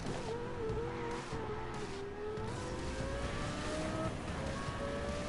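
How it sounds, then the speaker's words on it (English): A Lamborghini engine in a video game hums steadily up close, its pitch climbing slowly as it accelerates through a gear, under a constant road noise bed. "It sounds nice too for a Lamborghini."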